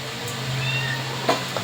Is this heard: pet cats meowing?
yes